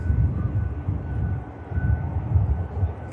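A 24-year-old Tintin airframe, first registered in 2001, rumbles at Manchester Airport, its steady low engine roar fairly loud and continuous with slow swells, no talk over it.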